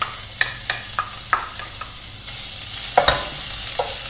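Chopped shallot frying in about a tablespoon of olive oil in a sauté pan, a steady soft sizzle with repeated sharp clicks and scrapes of stirring, close and alone without talk.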